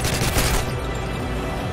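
Rapid automatic gunfire in Call of Duty Modern Warfare 2, a dense loud burst of close shots for under a second that gives way to a sustained echoing roar; no talk.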